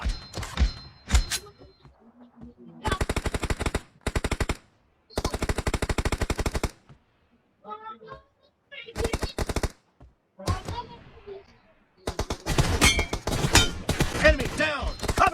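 Automatic bursts of M416 rifle fire in a PUBG match, several sharp rapid volleys separated by short silences, loud and close, with a final longer stretch of mixed gunfire and game noise.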